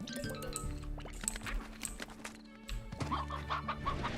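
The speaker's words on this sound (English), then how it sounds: "Another chicken." Chicken clucking inside the Slime Rancher video game, short repeated clucks and squawks over a steady musical game soundtrack, with no talk.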